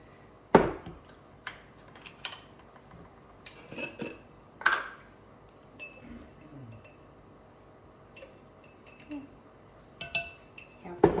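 A spoon mixes half a teaspoon of salt into cake batter ingredients in a bowl for a green tomato cake, giving scattered clinks and scrapes in short irregular bursts, fairly quiet and close.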